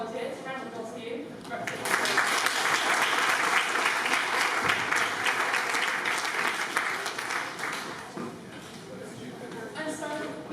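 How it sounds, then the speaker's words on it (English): An audience applauds volunteers at a science talk, with steady, moderately loud clapping that swells and then tapers off over about ten seconds. "Round of applause for you."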